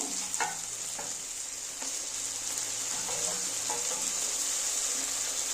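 Fried eggplant and onion are stirred with fish oil in a pan, a soft continuous sizzle with occasional light spatula scrapes, fairly quiet.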